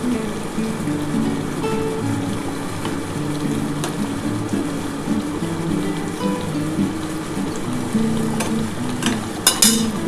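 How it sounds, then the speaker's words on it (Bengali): Pomfret fish curry bubbles hard in a pan over a high gas flame, a steady close sizzle and crackle with scattered sharper pops near the end. "এবার আমি গ্যাসটা একটু জোর করে দিচ্ছি বন্ধুরা, জোর করে ফুটে গেলে আমি ধনেপাতা দিয়ে নামাবো"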